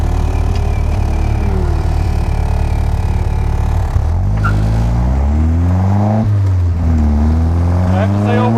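A Locost 7 kit car on a test drive after a T5 transmission rebuild, its engine loud and close, droning steadily, then dropping as it shifts and climbing through the gears with rising revs.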